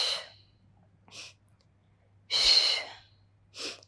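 Breath exhalations during a beginner Pilates mat workout, a few short breathy puffs close by, the strongest one long and forceful near the middle, with quieter breaths before and after.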